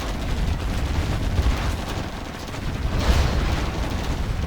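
A Stinger site in Command & Conquer Generals Zero Hour keeps firing, a dense, continuous rumble of rapid gunfire and booms at constant loudness, with no speech.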